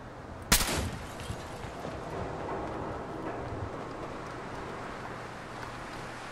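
Gunfire from a machine gun turret in Fallout 4 gives one sharp, loud blast early on, followed by a low, steady rumble of ambient game noise.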